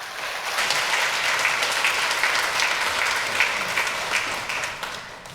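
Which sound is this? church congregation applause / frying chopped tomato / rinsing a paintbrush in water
church congregation applause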